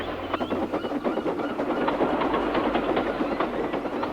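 A steam train rumbles steadily along the rails with a rapid, rhythmic clickety-clack, close and continuous throughout.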